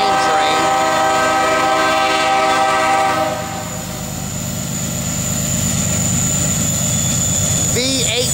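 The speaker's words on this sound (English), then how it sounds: "coming northbound is going to be an empty grain train" A loud CSX empty grain freight train, hauled by ES33DC and CW44AC locomotives, rumbles past nearby, steady engine drone and rolling wagon noise throughout, with a high tonal whine above.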